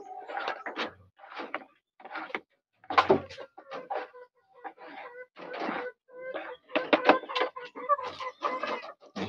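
Young Filipino chickens, three to seven months old, cluck in busy, irregular bursts close by, with short pauses between flurries and occasional knocks.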